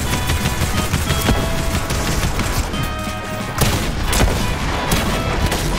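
Gunfire in a video game, loud repeated sharp shots and booms in a dense, noisy barrage with some rapid bursts, close and dominant throughout.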